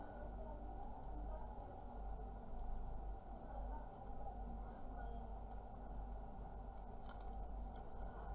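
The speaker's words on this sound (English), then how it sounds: "They're cutting on the line." Scissors cut paper along a drawn line while making a Jamaican flag, giving faint, repeated snips over a low background hum, with a few crisper cuts near the end.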